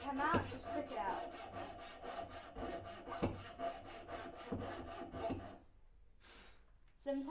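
Hand saw cutting wood for a chook carving, with rapid rhythmic back-and-forth rasping strokes at close range, stopping near the end before one brief final stroke.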